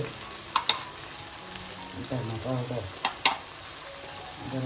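Ginger goes into hot oil in a pan ahead of the spices for a wild monsoon greens dish. A soft steady sizzle sounds close up, with a few sharp clacks of stirring and a brief murmur of a voice.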